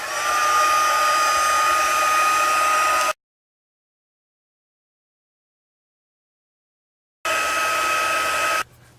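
A heat tool blows hard over embossing powder on a silicone mat, a loud steady whirring hiss that runs for about three seconds, cuts off into silence, then starts again briefly near the end.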